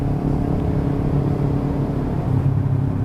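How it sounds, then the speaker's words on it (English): A Kawasaki Ninja 300 motorcycle pulls away from a traffic light, its engine a steady, close, continuous drone with a low rumble and no voices. "I'm casually accelerating, and I'm not getting left behind or anything like that"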